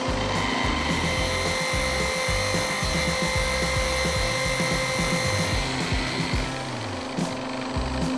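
Buffing compound is worked onto a section of a 1945 fishing rod by a motorized polishing wheel, a loud continuous whirring drone with a rough rubbing texture and slight pitch shifts as pressure changes.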